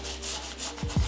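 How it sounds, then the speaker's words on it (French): A brush scrubs the sole and fabric of a white sneaker in a quick run of soft, raspy strokes, close and fairly quiet, ending with two sharper scrapes. "tu brosses un peu la semelle, tu brosses le tissu, tu brosses un petit peu"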